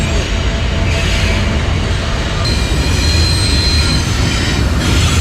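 Train rolling past along railway tracks beside a campsite in British Columbia, a loud close continuous rumble of wagons with screeching wheel squeal, no voices.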